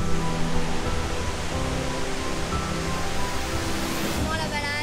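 A waterfall in Scandinavia, a dense, continuous rushing roar of falling water, loud and steady throughout, with a faint voice near the end.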